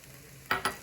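Whole cumin seeds hit a hot pan of vegetables for a curry stew, giving two quick bright bursts of crackling sizzle over a quiet low background.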